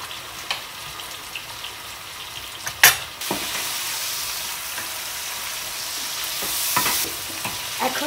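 Two chopped tomatoes dropped into hot oil for a goat-meat curry, with a sharp burst of sizzle on contact, then a steady crackling hiss and scattered stirring scrapes and clinks, close with no talk.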